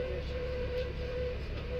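A JR Kisuki Line train runs through a mountain switchback in Japan, heard from inside as a steady rumbling drone with a sustained tonal hum, no talk over it.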